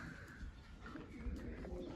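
Pigeons, including young birds, cooing softly in a loft, a faint low murmur of coos over light background noise.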